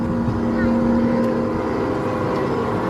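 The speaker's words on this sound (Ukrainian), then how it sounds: "І отакі джипчики їдуть." Small motorized jeep rides drive around an amusement park near Lviv, a steady engine hum close by with a continuous low drone over the whole stretch.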